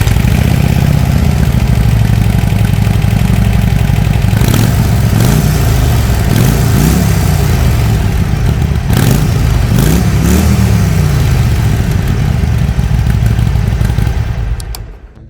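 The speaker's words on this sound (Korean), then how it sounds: "이제 순정 머플러 소리 한번 들어보겠습니다" A 2020 Harley-Davidson Iron 883 Sportster idles loud and close through its stock muffler, with a deep, lumpy rumble and several short throttle blips before the engine cuts off.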